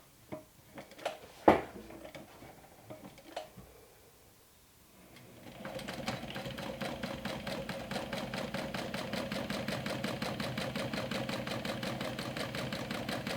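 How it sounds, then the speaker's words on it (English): A sewing machine top stitches a glow-in-the-dark backpack, starting after a few handling clicks and bumps, then running with a fast, steady, even mechanical rattle that continues to the end. "After we've turned it, I'm gonna go ahead and top stitch it"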